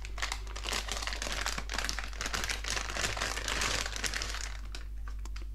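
Parts for a Sovol SV06 Plus 3D printer are pulled from an antistatic plastic bag, making a continuous dense crinkling and crackling up close for several seconds before it tapers off.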